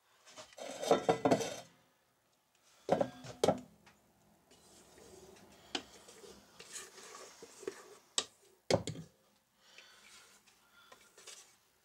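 A spatula scrapes cake batter around a mixing bowl in several short, uneven bursts, with clinks and scuffs between quieter pauses.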